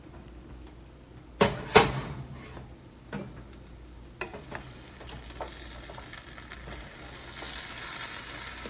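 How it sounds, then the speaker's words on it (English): Jollof rice being stirred in a pot now and then, a couple of sharp scraping knocks early on, then softer occasional scrapes and clinks over a faint steady sizzle, with no talking. "This is just demonstration of the intermittent stirring."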